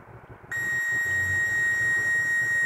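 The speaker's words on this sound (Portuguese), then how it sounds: "Quando bipou, significa que tem continuidade." Multimeter set to continuity mode beeping while testing a microwave oven fuse: a steady, clear tone starts abruptly and holds without a break to the end.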